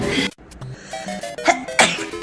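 A sneeze from a group member, one sharp burst among brief vocal sounds and short musical tones, close and fairly loud.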